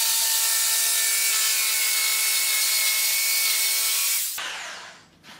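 A power tool whines steadily as it rounds the corners on the base of a walnut table top, loud and sustained with tonal overtones, then spins down and cuts off near the end.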